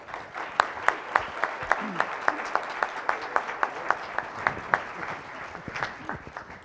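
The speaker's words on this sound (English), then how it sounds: "Let's give a big round of applause for our panel." An audience applauds a panel at a West Virginia education summit, a steady crowd of claps with a few sharp, louder hand claps standing out near the microphone throughout.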